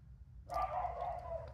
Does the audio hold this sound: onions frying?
no